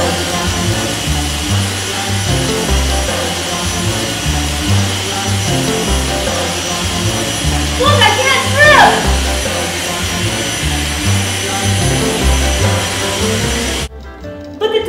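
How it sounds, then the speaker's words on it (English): A Dyson DC59 cordless vacuum cleaner runs steadily with a loud, close motor whine throughout, briefly changing pitch partway through and cutting off near the end, with a voice speaking over it. "With the new Dyson DC59 cordless vacuum cleaner,"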